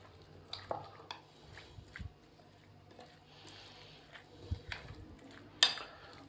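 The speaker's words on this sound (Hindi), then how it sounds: "मैदा शामिल करने के बाद हम इसको जल्दी से इस तरीके से मिक्स कर देंगे।" Egg and potato fries being tossed with flour in a bowl, with quiet scraping and soft knocks of a spoon or hand against the dish and occasional clinks, close and low in level.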